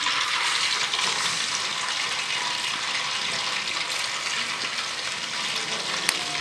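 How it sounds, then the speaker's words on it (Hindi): Chicken frying in a pot, a dense, even sizzle and hiss running steadily from start to finish, close and loud with no pauses. "अब इसको फ्राई करूँगी।"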